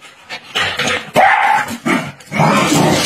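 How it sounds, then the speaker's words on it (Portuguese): A small dog barks repeatedly at close range, giving loud sharp yaps and yips in quick bursts with short gaps between them. "E a Rubi não para de latir."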